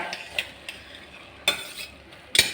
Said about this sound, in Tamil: ஃபைனல் நமக்கு வந்து கொஞ்சம் நெய்யை ஆட் பண்ணி நல்லா மிக்ஸ் பண்ணி விடலாம்.